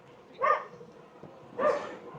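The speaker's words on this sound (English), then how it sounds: "Look, dogs having a bloody barking at everybody walking past." A dog barks twice in short bursts at people walking past a shopping arcade in Playa Blanca, Lanzarote. The barks are moderately loud and a little distant, with a quiet pause between them and no talk over them.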